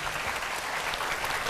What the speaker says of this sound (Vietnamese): vỗ tay cho anh làm này mọi người